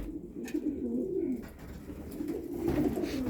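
Homing pigeons cooing in a loft for widowers, a soft rolling coo repeating in two close phrases, nearby and fairly quiet over low background hum.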